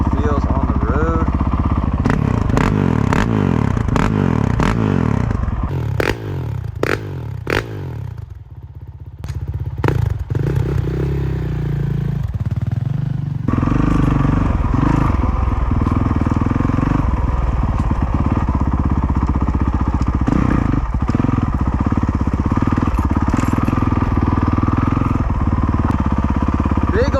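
A Honda CRF450RL street-legal 450 dirt bike engine idles and warms up nearby, a steady low drone with brief revs and clattering thumps, running continuously throughout while a person talks over it.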